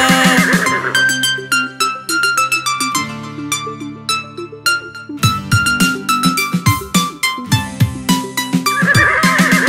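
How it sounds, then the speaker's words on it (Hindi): A horse whinnies at the start and again at the end of a bright, upbeat Hindi nursery rhyme for children, with the neighs blending into the busy instrumental music that fills the rest of the clip. "दौड़ा दौड़ा घोड़ा दौड़ा दुम उठा के दौड़ा"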